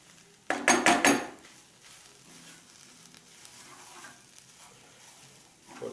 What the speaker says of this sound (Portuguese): Interessante é misturar bem a farinha também